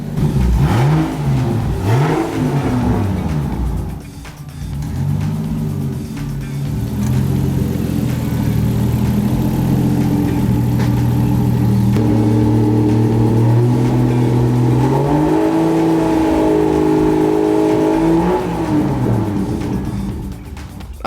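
A turbocharged Toyota Supra running a mismatched big, cheap turbo revs loudly and close by, the engine climbing and falling in repeated pulls before holding a long high drone that then winds down.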